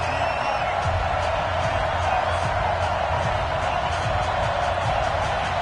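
Steady roar of a large stadium crowd cheering before an NFL game against the Atlanta Falcons, a constant wash of distant voices with faint whoops, no single speaker.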